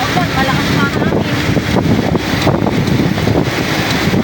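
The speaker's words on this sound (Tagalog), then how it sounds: "Malakas na ulan, malakas na hangin." Strong monsoon wind with heavy rain during a flood buffets the microphone in a constant roaring rush, with faint voices mixed into the blustery noise.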